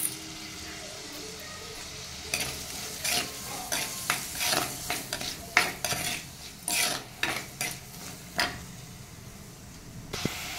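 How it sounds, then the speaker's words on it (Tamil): Ingredients for crab gravy sauté in a pan, a continuous sizzle broken by repeated clanks and scrapes of a spatula against metal, close and fairly loud, with no talking over it. "நல்லா வதங்கட்டும். அது வதங்கிறதுக்காக நம்ம உப்பு ஆட் பண்ணிக்கலாம்."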